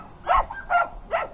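A young roan-patterned Brittany puppy gives three short, high yapping barks in quick, even succession, close and fairly loud, with no talk over them.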